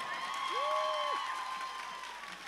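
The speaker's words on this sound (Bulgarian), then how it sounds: "А сега не спирайте с аплодисментите." Audience applause fills a folk ensemble concert hall as a steady, dense wash of clapping from a large crowd, with a brief tonal sound rising and falling above it.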